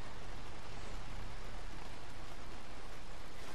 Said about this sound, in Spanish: Está lloviendo, ¿no?